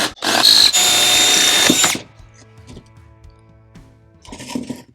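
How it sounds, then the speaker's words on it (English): A power drill drilling out a bolt on a Harley-Davidson Sportster whines loudly for about two seconds, then stops, leaving faint clinks and rattles of metal afterward. "We are going to drill this out now"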